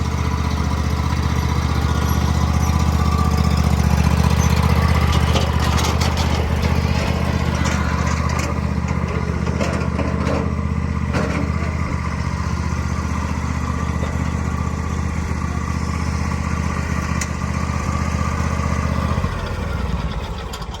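A lawn mower runs steadily while cutting down a vegetable garden, a loud, continuous engine drone that stays close for the whole stretch before dropping off near the end.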